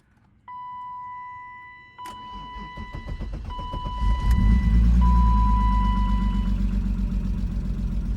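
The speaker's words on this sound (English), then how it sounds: "I'm not surprised with a little bit of engine chatter" A 1995 BMW M3 engine cranks and starts, then idles steadily with a slight mechanical chatter, while a high steady warning tone beeps in the background.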